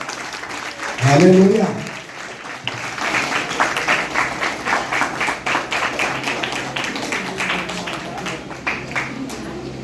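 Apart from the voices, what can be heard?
congregation clapping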